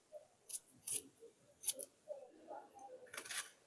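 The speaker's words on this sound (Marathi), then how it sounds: "तर चला आता आपण हे कांदा कापाय घेऊया." A knife chops a peeled onion finely on a board while making a rava-besan paratha, giving a few sharp, close, crisp cuts spaced irregularly over light background noise.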